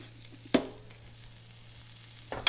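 Ginger garlic paste sizzles softly in a pan over a low flame while tawa keema is cooked, with a steady faint hiss broken by two sharp utensil knocks.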